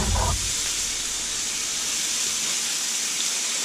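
Chunks of cut bacon sizzle steadily in hot oil in a pan, a continuous broadband frying hiss that stays close and even throughout, with a brief clatter at the start.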